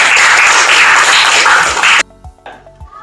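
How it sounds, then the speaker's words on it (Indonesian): A classroom group claps loudly and densely for about two seconds, then stops abruptly, leaving a few quiet thumps and room sounds. "Ya, tepuk tangan."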